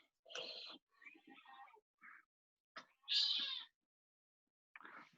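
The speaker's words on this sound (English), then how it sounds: "There is a cat. She is cranky." A cranky cat meows in a quiet room, a string of short, insistent meows and one louder, drawn-out complaint separated by silent gaps, close to the listener.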